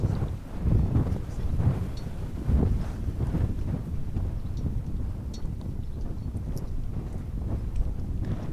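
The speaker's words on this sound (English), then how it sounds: "we are sitting in the middle of a classic Oklahoma hot, windy day" Strong gusty wind buffets the microphone outdoors on a hot, windy Oklahoma day, a loud continuous low rumble with irregular surges throughout.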